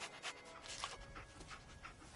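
Dogmeat, the German Shepherd companion dog in the video game Fallout 4, pants rhythmically in steady breathy puffs, close and moderately loud over faint game ambience.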